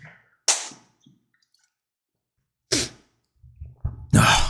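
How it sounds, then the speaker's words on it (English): A man sneezes indoors, sharp explosive bursts separated by silence, with breathy sniffs and a final loud sneeze close to the microphone. "I need to sneeze"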